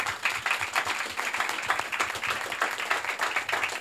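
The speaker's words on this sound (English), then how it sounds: "A round of applause for our panelists," Audience applause for music-industry panelists, close and fairly loud, with individual claps distinct in an uneven, busy rhythm throughout.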